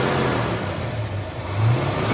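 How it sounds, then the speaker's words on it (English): A 1971 Ford Mustang Boss 351 V8 with a Holley carburetor setup is revved up and down a couple of times, its deep, close exhaust note loud and alone, with no talking. "We'll give it a few revs."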